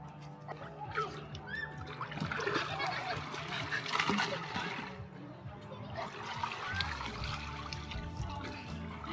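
Splashing and trickling of cold creek water as a person plunges in, a continuous close watery churn with brief voices mixed in.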